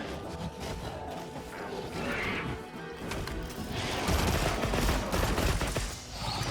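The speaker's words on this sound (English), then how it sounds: "I think it's a pierce and poison rapid fire" A pierce and poison rapid-fire bowgun in Monster Hunter Wilds looses repeated shots in a dense stream of impacts and crashes, with heavier thuds swelling in the second half amid other battle noise.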